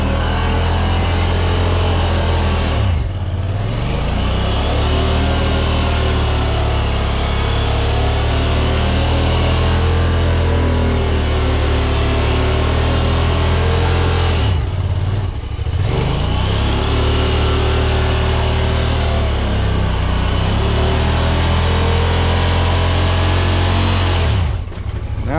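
A Honda Pioneer side-by-side digs through mud in a yard. Its engine drones loud and steady for the whole stretch, and the revs surge and fall back several times with no pause between them.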